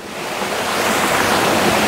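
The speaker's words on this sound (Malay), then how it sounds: "Ada sungai." A river at a campsite in Perak, Malaysia, heard as a steady, loud, unbroken rush of flowing water close by.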